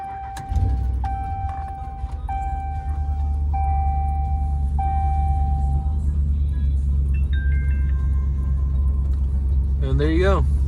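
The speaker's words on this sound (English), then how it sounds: "So we're gonna turn on the vehicle." A car engine cranks and settles into a steady low idle rumble close by, after a series of short electronic chime beeps, with a brief warbling tone near the end.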